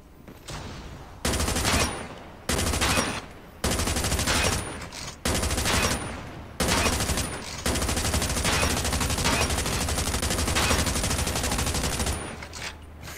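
Automatic gunfire in the Call of Duty: Mobile practice range comes in loud bursts of rapid shots broken by short pauses, then a long sustained burst near the end, with no talking.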